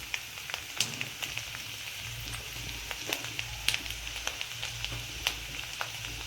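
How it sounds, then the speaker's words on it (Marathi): Chopped ginger and garlic sizzle in a spoonful of hot oil, a steady quiet frying hiss with small scattered pops and crackles spread evenly through the clip. "आपल्याला हे छान तळून करायचं आहे।"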